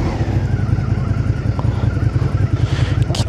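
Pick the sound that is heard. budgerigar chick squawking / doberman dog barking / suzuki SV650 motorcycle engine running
suzuki SV650 motorcycle engine running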